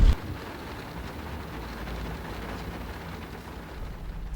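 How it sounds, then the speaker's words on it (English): Heavy rain pours steadily in Guam during the rainy season, a dense, even hiss of falling water with no voices. "it is raining pretty good right now in Guam on this Monday."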